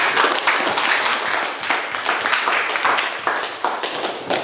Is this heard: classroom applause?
yes